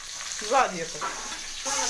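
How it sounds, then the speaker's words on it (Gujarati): Hot oil crackles and sizzles steadily as spices hit the pan for tempering dal, with a brief louder burst of spattering partway through. "જો વઘાર શરૂ થઈ ગયો અને ડાળ પણ નાખી દીધી"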